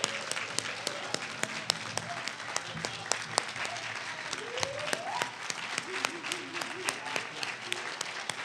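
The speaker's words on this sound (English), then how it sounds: "let's just give Pastor Campbell and Deaconess Campbell a round of applause" Applause rises from a church congregation at a Baptist service, a steady wash of hand clapping with sharp individual claps standing out, while voices murmur and call out underneath throughout.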